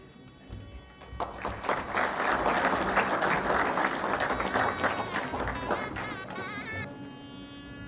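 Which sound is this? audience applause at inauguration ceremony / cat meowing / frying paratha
audience applause at inauguration ceremony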